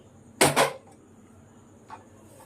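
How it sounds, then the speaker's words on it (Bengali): A metal kadai being set on the stove for frying puri: two quick, close clanks in rapid succession, followed by a fainter single knock a moment later in an otherwise quiet kitchen. "কড়াই বসিয়ে নিচ্ছি, পুরিটা ভেজে নেব।"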